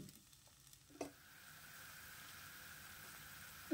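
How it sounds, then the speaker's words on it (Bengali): Curry sauce for eggplant with flattened rice simmers in a pan, giving a quiet, steady bubbling sizzle with a soft clink near the start and no talking. "ঝোল ফুটে উঠেছে"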